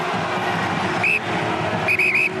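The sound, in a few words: referee blowing half-time whistle at rugby match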